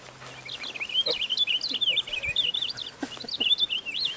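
Birds sing outdoors in a canyon oak reforestation area, a continuous warbling chirp close and fairly loud, with faint rustles and brief knocks beneath.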